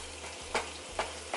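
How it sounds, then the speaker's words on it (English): Shrimp and onions fry in a pan on a stovetop over medium-high heat, a close, steady sizzle broken by three brief scraping stirs, with no talking. "now I'm gonna go ahead and add in my shrimp to finish the cooking process"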